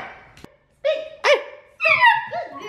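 A dog barks a few times up close, sharp yelping barks with a brief whine between them, loud and alone without speech.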